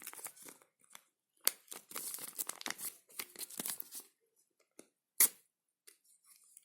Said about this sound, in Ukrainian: І відкриваємо цей пакетик з такими блискавками.